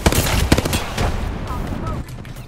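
Bursts of automatic gunfire in the battle royale video game Apex Legends, rapid loud shots crowding the first second and tapering into scattered reports, with game voice lines and voices heard faintly under the fire.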